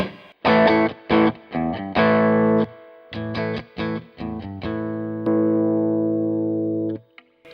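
Electric guitar driven through a JHS Bonsai 9-in-1 Tube Screamer overdrive pedal, loud, with choppy strummed chords and stabs followed by a long sustained ringing chord that cuts off near the end.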